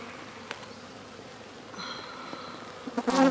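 Honey bees buzz around a brood-filled comb in a hive, a soft continuous hum that rises and thickens near the end, with a few faint knocks in the background.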